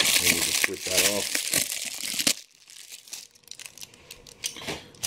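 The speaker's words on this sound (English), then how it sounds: "we got the accessories bag, which is just sort of just taped in there at a random spot. And we'll just rip that off." A taped accessories bag being ripped off plastic toy packaging, loud crinkling and tearing up close, then softer rustling and handling, with someone talking over it.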